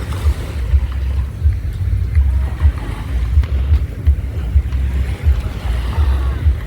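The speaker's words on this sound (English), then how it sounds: "I'm gonna record myself putting my feet in the water" Beach water swirling around feet in Crocs while wading in the shallows, a close, rumbling wash with repeated low surges and splashes, buffeted by wind noise on the microphone.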